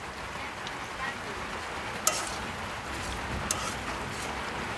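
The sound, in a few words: spices frying in a pan for goat meat curry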